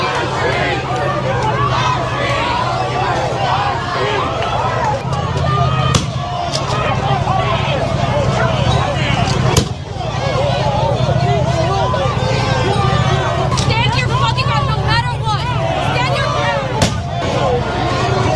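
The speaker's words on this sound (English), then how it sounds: "Shots are getting fired out here." Police gunshots ring out at a crowded street protest with National Guard present, several sharp bangs punctuating a loud, constant roar of crowd noise and shouting.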